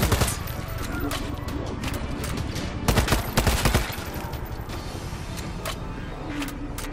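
Rapid gunfire in the zombie shooter World War Z Aftermath: sustained automatic bursts crackle over a loud, noisy battle bed, with a cluster of heavier shots about midway.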